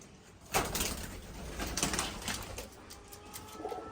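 Giribaz pigeons coo softly nearby with a brief flutter of wings, over a low steady background hum.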